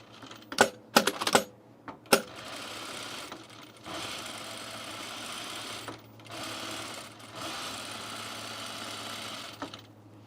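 A sewing machine running an easing stitch through corduroy, opening with several sharp mechanical clicks and clacks, then settling into a steady motor whir of stitching with brief dips and pauses, over a low constant hum.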